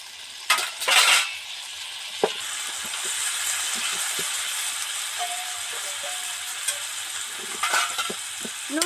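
Vegetable curry of kohlrabi, green papaya and radish simmers and sizzles in a pan after water is added, giving a steady, fairly loud hiss with a few sharper crackles and soft clinks near the start and end.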